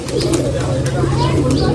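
Old breeder racing pigeons coo softly at close range in a short burst, over a steady low background hum, with faint human voices mixed in.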